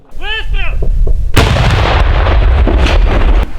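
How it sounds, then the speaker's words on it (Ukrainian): Loud heavy gun blasts crash out near the mic, a rapid volley of booming shots from a Rapira anti-tank gun after a brief high whistle-like tone at the start, in the village of Pisky. "Бійці правого сектора намагаються вибити сепаратистів залпами з гармати рапіра."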